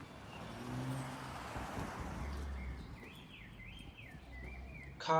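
A Porsche speeds along a residential street in a Shanghai neighborhood, its engine note rising and fading close by amid steady traffic rumble, with faint bird calls in the background.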